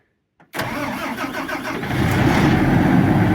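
A Renault truck's diesel engine cranks and catches after a brief silence, then settles into a loud, close, steady rumble that grows heavier as it idles, with no talk over it.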